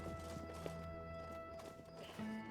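A horse clip-clops along in the video game Tainted Grail, faint steady hoofbeats beneath steady game music and ambient tones.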